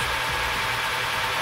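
An old barn-find car engine runs steadily at idle, a continuous low rumble with a faint knocking vibration, close and alone without any voices.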